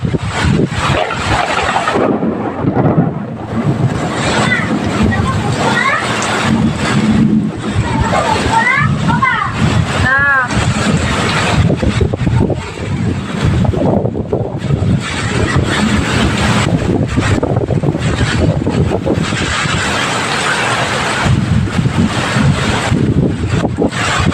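Strong wind with heavy rain in a rural rice-growing area, a loud continuous rushing roar buffeting the microphone throughout, with a person talking over it.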